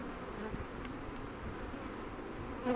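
An agitated colony in an open hive during an apiary inspection fills the air with a dense, steady buzzing drone of many bees, close and continuous, with no voices.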